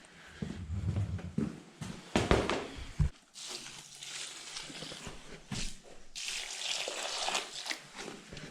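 A tap runs to fill water for ponies, with close splashing and rushing bursts that start and stop several times amid handling clatter.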